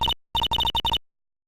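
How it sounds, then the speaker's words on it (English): A cell phone ringtone in the Phoenix Wright: Ace Attorney courtroom game, a bright electronic chirping melody in short repeated bursts, one brief phrase, a pause, then a rapid run of pulses before cutting to silence. "That ringtone!"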